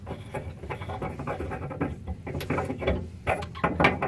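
A fuel filter canister being screwed back on by hand on a CNG Honda Civic, close-up irregular scraping, clicking and ratcheting thread noises, moderately loud, without talk.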